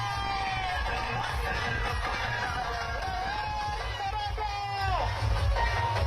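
A Maratha rally procession heading toward Mumbai fills the air with a dense crowd roar, cheers and shouts, with whistles and horn-like tones rising over continuous babble of many voices.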